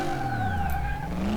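A Dodge Hellcat engine revs in the Car Mechanic Simulator 2018 video game with its stock exhaust sound. It is a steady, loud engine note with rising and falling pitch, close up, and nobody speaks over it.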